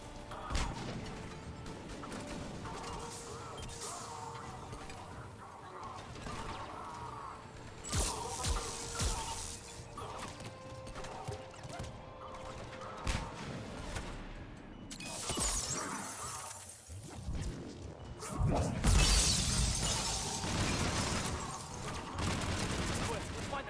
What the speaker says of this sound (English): God fucking damn grenades.